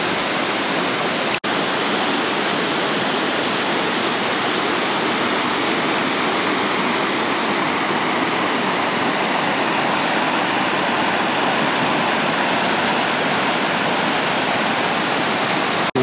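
Water pours steadily over Colley's Dam, a small dam in the woods, making a loud, continuous broadband roar like a waterfall that holds unchanged throughout with no voices.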